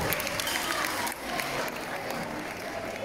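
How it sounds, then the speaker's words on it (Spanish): Steady applause from an audience sends off kindergarten children of the Centro Escolar Rafael Campos after a musical story performance, a continuous crowd clap lasting a few seconds. "Despedimos con un fuerte aplauso a los peques del Centro Escolar Rafael"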